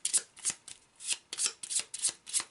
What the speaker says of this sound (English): We'll give that a quick shuffle.